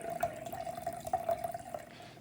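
Côte d'Aron wine poured into a measuring cup, a faint, close gurgling trickle with small glugging bursts, short and quiet, no talk.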